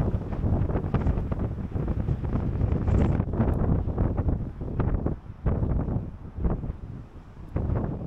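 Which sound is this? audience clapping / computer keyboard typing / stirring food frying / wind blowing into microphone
wind blowing into microphone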